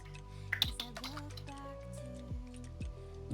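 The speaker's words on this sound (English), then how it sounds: "Nice typing." A few quick keystroke clicks on a computer keyboard, close and fairly soft, scattered over steady background tones.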